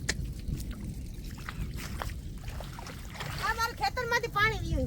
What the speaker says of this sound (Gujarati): ખેતરમાંથી પાણી વીયું જાય આપણે અહીં